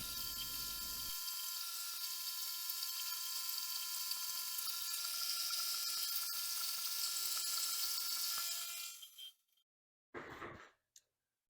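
A milling machine squares up the steel parts of a mill vise with a high, steady whining cut and faint ticking chatter, then the spindle winds down into silence before a brief burst of machine noise.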